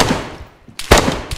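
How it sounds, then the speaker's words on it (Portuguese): Gunfire in DayZ during a shootout in the town of Zelenogorsk: a few sharp, loud shots crack out in quick succession after a brief lull. "Estão atirando em mim aqui."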